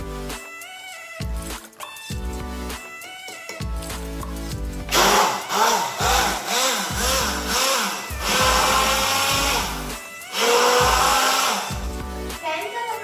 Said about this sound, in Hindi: अब हम इसे ग्राइंड करने जा रहे हैं।